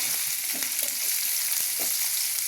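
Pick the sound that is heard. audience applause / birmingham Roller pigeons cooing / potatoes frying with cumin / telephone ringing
potatoes frying with cumin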